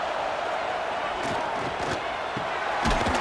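Stadium crowd at a college football game roaring during a big third down, a loud continuous wash of cheering with a swell near the end.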